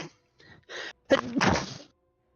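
A single person sneezes during a tabletop role-playing game session: a few sharp inhaled catches build up to one loud, close sneeze, and then it goes quiet.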